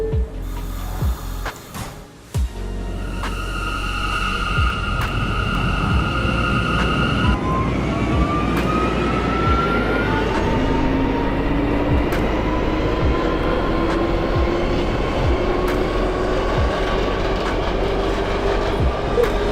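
A New York subway M train bound for 96th Street–2nd Avenue in the OpenBVE simulator rolls steadily, with a constant low rumble, rising motor whine and a brief tone chime early on, loud and continuous throughout.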